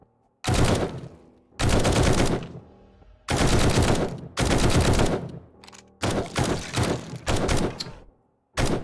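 Automatic gunfire in the survival video game 7 Days to Die, several loud rapid bursts separated by short pauses, close and alone without talk.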